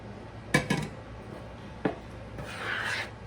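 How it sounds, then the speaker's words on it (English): Gingerbread cake batter with flour and milk is mixed by hand in a bowl: a couple of sharp utensil knocks, then a soft, rough scraping and rubbing at close range. "And mix that all together really well."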